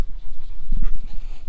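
A Great Dane and Great Pyrenees cross guardian dog pants close by outdoors, a loud quick rhythmic series of breathy huffs.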